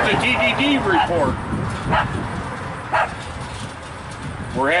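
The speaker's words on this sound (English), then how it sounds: "We're having a dog bark off" Dogs bark back and forth outdoors near a porch, with a drawn-out howling yelp followed by several single sharp barks spaced about a second apart, some near and some farther off.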